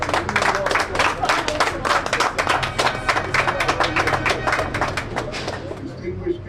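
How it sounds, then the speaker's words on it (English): An audience applauds the Minister as he takes the microphone at a gas station event, with loud, dense, sustained clapping that holds steady before tapering off toward the end. "A round of applause for the Minister as he takes the microphone"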